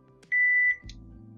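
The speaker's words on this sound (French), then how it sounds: "2 bips" Two electronic beeps from a Wikson WiFi Tuya home alarm system panel, a short tone then a longer steady one, clear and close in a quiet room before a low rumble follows.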